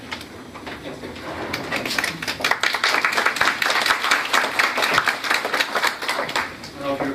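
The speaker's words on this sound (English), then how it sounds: "I don't know if you were clapping for me to come up here." Audience applause at a federal workforce development conference: dense, sustained clapping from many hands fills the room throughout, steady and fairly loud, with voices murmuring underneath.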